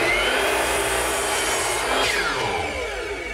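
A power saw cutting strips of select pine in half, giving a loud continuous whining, rasping cut that holds steady and then shifts pitch near the end as the blade finishes through the wood, with no talking.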